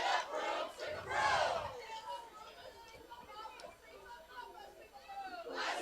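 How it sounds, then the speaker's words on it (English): Home crowd at a high school football game, Highland versus Westside, roaring in a loud swell early on, then a steady murmur of crowd noise with voices talking over it. "Their home crowd's feeling it right now."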